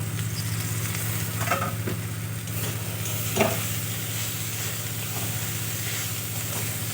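Mustard greens cooking in a pan, a steady even sizzle and hiss carrying on throughout, with a few soft stirring scrapes including one clearer knock midway, and no one speaking.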